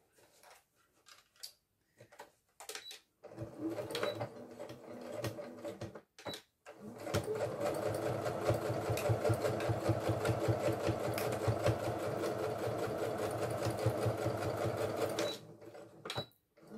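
A sewing machine topstitches the second side of a fabric belt bag, starting with a few short stop-start bursts and then running in one steady, close, busy stretch of about twelve seconds before stopping.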